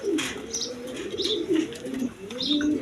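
A pair of red Gola pigeons, a male and a female sitting on eggs, coo close by in soft, throaty rolling phrases repeated several times, with a few faint higher chirps in between.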